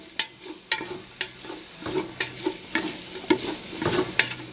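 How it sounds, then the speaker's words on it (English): One whole white onion frying in garlic-infused oil, a loud close sizzle with regular scraping stirs every half second or so. "Now, at this point, we're going to throw in the onion. This is one whole white onion."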